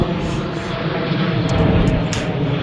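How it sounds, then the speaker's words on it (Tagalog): An airplane drones overhead, a broad steady roar mixed with outdoor traffic noise, fairly loud throughout the short stretch. "Aeroplano pa oh."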